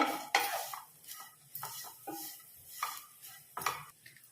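Carrot and coconut fried together in a pan are stirred with a utensil, giving several separate scraping knocks against the metal at an uneven pace. The sound is close and fairly soft, with no voice over it.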